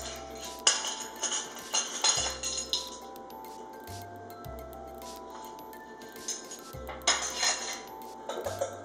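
A double boiler being lifted out of a pot and a slurry added while making cocoa almond whipped body butter: a run of metallic clanks and clinks of pans and utensils, with a couple of bright ringing hits, no talking.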